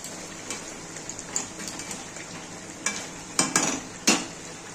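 Chicken kosha frying in a pan, a Bengali-style chicken dish, steadily sizzling while a spatula scrapes and clicks against the pan in irregular strokes, loud and close with no talk.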